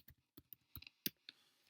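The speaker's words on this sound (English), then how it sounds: "So just keep typing in your URL." Keys on a computer keyboard being tapped out while entering a web address: a handful of separate, uneven clicks with short gaps between them, close and fairly quiet, with no talking.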